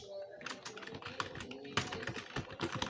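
Quiet, quick typing on a computer keyboard as code is written, irregular clusters of soft keystrokes close by with a faint background.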